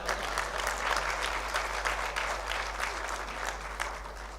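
A hall audience applauds at the inauguration of the Jaipur Jewellery Show 2024, dense continuous clapping from many people, fairly even throughout and heard from a distance with no voices over it.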